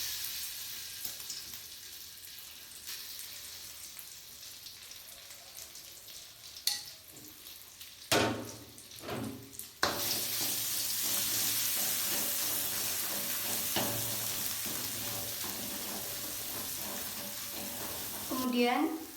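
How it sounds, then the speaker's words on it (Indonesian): Ground spice paste for clear-broth chicken soto sautéing in hot oil: a steady, close sizzling hiss that swells after a few scattered clinks and stirring knocks, holding loud and continuous to the end. "Kalau minyak sudah panas, kita akan menumis bumbu yang sudah dihaluskan tadi."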